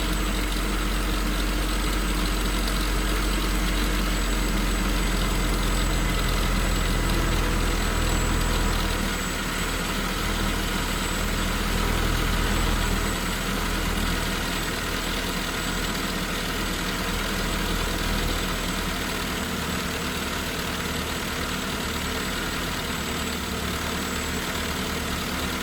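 A car engine fitted with twin SU carburettors idles at about 1350 RPM, a steady, continuous, close and fairly loud drone with a slight dip in level partway through.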